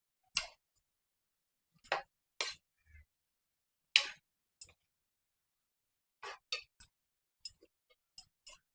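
A spoon stirs Andhra-style chilli chicken roast in a pan, giving sparse, sharp metallic clinks and scrapes spaced irregularly over quiet pauses, near and fairly crisp, with no talking.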